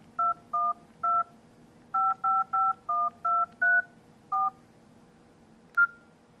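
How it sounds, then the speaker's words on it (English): Nokia 5800 phone keypad dialing tones: about ten short, evenly paced dual-tone beeps in quick succession, clear and close, with one brief final tone after a pause. "So if we just dial a random number,"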